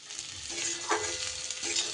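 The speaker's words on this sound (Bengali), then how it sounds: "2 থেকে 3 মিনিট এইভাবে একটু কষিয়ে নিয়েছি" Spices being sautéed and stirred in a pan, a soft, close sizzle with faint scraping strokes of a spoon at intervals, quiet overall with no voices.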